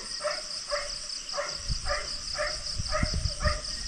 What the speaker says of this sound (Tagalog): Nagkagulo yung mga aso natin, oh.